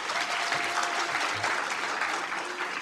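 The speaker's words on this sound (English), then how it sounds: "please give her a round of applause" Steady audience applause at a career and technical education award ceremony, thanking a chef; dense clapping runs evenly throughout with no break.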